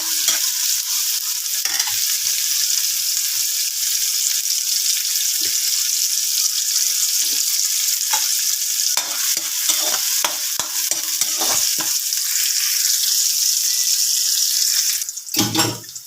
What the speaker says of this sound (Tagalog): Medyo ipa-aromatic natin ang konti yung ating mga sibuyas at bawang.